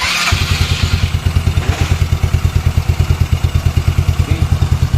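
Yamaha Mio scooter with a 160cc big valve head, its engine running loud and close with a steady fast pulsing throb throughout, no talk over it.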